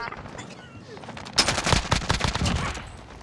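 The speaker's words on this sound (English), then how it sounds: "I'm taking fire!" Call of Duty Warzone gunfire erupts after a quiet stretch: a sudden loud burst of rapid, overlapping shots that keeps crackling as a dense, close volley for the last two seconds.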